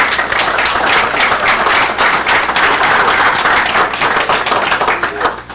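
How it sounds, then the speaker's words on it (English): Loud, sustained clapping from an audience at a Hall of Fame gathering, many hands beating fast and close together, easing off slightly toward the end with no voices on top. "applause for you fellas"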